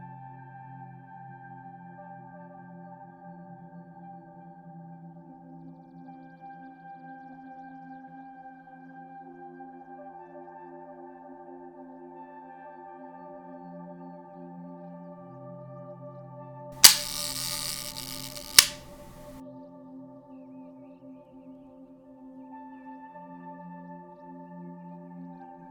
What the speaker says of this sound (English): Sit back and watch the cocking of a leaf shutter.